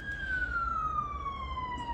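A wailing police siren sweeps slowly downward in pitch over a low traffic rumble, moderately distant.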